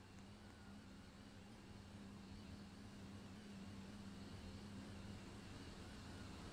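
A Voyager express train rumbles steadily past at speed through a station in a video game, a continuous low mechanical drone with a constant hum, no voices.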